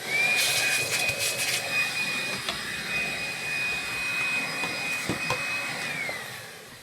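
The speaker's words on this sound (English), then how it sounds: "it's not a bad little vacuum cleaner, this" A Makita cordless handheld vacuum cleaner with crevice tool whines steadily at a high pitch for several seconds, with brief clicks and knocks of the nozzle moving, then winds down.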